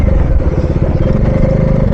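A Dominar 400 motorcycle on a long ride makes a steady rattling clatter over loud, continuous engine and road noise, with the knock running throughout at close range.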